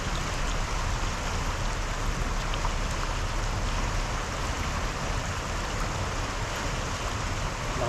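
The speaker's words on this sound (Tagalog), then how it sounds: "Lakas po ng agos oh." A strong river current swollen with rain runoff from the mountains, a loud, unbroken broadband rush of flowing water heard up close and steady throughout, with no voices.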